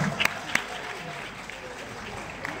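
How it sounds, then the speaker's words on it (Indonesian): An audience at a school party event in West Sumatra claps as a soft, fairly distant patter of applause that carries on throughout, with a few sharper claps standing out. "Tepuk tangan untuk sama akar tiga ini, luar biasa."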